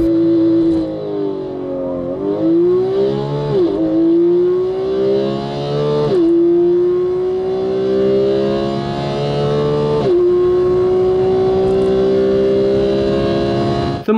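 A Porsche 911 GT3 engine revs hard and climbs through the gears on the Nürburgring track, loud and close, with brief dips at each shift before pulling again.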